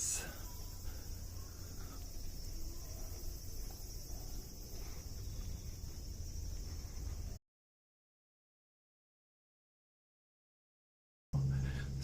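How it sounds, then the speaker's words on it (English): A steady high-pitched insect drone of cicadas on an evening street in Machida, Tokyo, fills the air, then cuts to silence before briefly returning. "Yes, it's cicadas that you're hearing."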